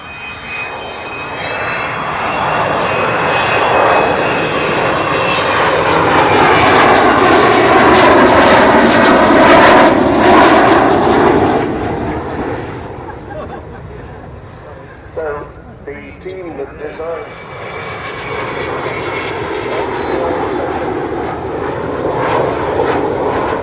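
An Avro Vulcan bomber roars past with its engines trailing unburned fuel, a loud broad jet rumble that swells to a peak and slowly fades, with a person talking over it.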